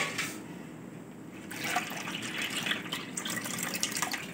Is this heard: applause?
no